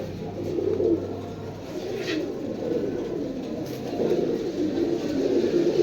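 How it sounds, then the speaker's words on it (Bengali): A roller pigeon coos in soft, repeated low rolling phrases, close by and fairly quiet, with no talking over it. "এই যে একটা রোলার কবুতর"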